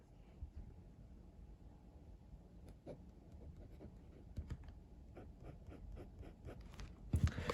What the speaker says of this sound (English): I'm just going to do a very quick writing sample here with the fine nib I have on the aluminium version of the pen.